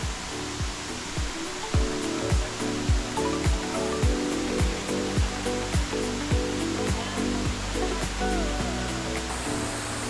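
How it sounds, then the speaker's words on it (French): A waterfall in Bohol, Philippines, gives off a loud, steady roar of falling water, with a regular rhythmic beat and tonal sounds running over it throughout. "J'ai choisi cette cascade qui me paraissait la plus belle"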